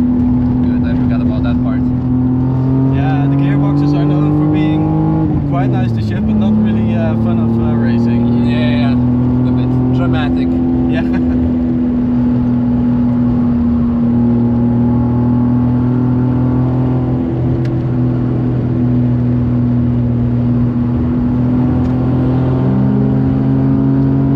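Toyota Supra MK3 engine pulling hard on the Nürburgring, a steady loud in-car drone whose pitch climbs and dips with the gear changes, with people talking over it throughout.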